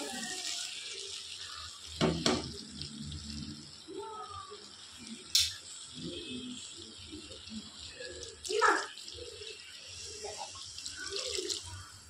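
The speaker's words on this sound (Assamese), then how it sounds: "এতিয়া পানী এড কৰি দিম ইয়াত মই।" Water is poured into a pan of fried chana dal, giving a soft, faint splash and sizzle with a few sharper clinks, over quiet kitchen background.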